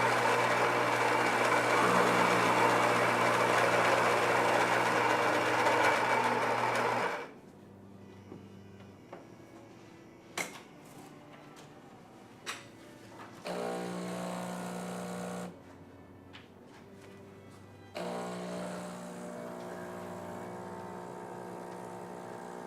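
A Syntia Focus automatic espresso machine brewing an espresso for a cappuccino: a loud, steady grinding and pumping roar for about seven seconds, then quieter whirring bursts, clicks and a couple of sustained hums.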